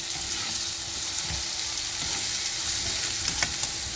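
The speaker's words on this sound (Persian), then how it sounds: "پیاز که کشیده شد شما روغنتون رو میتونید بریزید." Onion fries in olive oil in a pan during preparation of Qazvini gheymeh, with a steady close-up sizzle, occasional stirring clatter, and no talking.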